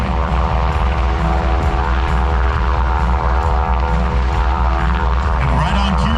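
A U.S. Coast Guard aircraft holds position overhead during a rescue demonstration in Sanford, Florida, its engine and rotor drone loud, steady and continuous throughout with no break.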